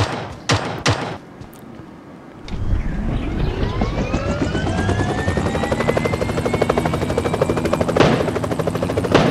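A helicopter in the PUBG Mobile game spins up after a few sharp gunshots, its rotor building into a loud, steady, rhythmic thumping whir that fills the rest of the clip.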